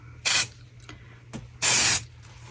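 Spray applied to a new resin casting mould, two short hissing aerosol bursts, the second longer, close up with quiet gaps between.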